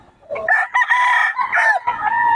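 A rooster in Bocaue crows loudly and close by, one long warbling call broken into several sustained tonal segments, with no talk.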